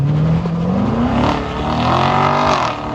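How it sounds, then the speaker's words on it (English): A Chevrolet Corvette Z51 from the 2014-2019 generation accelerates hard at full throttle on a road, its engine note climbing steadily and loud and close for about three seconds with no talk. "then he goes full throttle at a stop sign"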